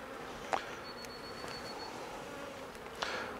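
Honey bees on the comb while a nucleus colony is moved into a hive, a faint steady buzzing hum with a couple of louder bees passing near, no talking.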